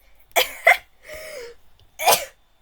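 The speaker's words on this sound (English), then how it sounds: "I'm really coughing right now" Two sharp coughs in quick succession, a short raspy breath, then one more harsh cough, close and alone.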